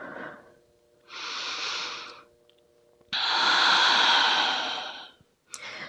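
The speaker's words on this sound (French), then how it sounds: "2 profondes respirations" Slow, deep breaths during a gentle yoga exercise: a long inhale, then a fuller, louder exhale, each broad and airy, close to the ear with quiet pauses between, and a final breath beginning at the end.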